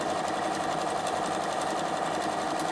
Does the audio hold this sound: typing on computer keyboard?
no